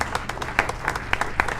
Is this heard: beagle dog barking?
no